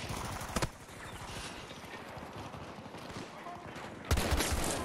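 Shotgun fire from the NVK-S22 in the video game Battlefield 2042: two loud broadband blasts, one early and one near the end, over a constant busy game soundscape of noise and clatter.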